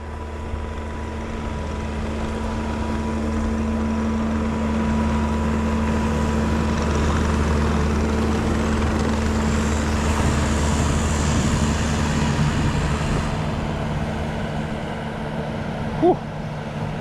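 A big skid steer pushing heavy snow, its engine holding a steady, loud diesel drone with a low hum throughout and a brief bump near the end; no one speaks.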